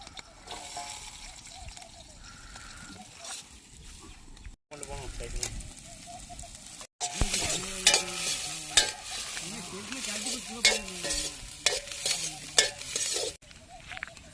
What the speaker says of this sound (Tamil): சின்ன வெங்காயம் ஒரு அரை கிலோ இடத்துக்கு போட்டுக்கிறோம்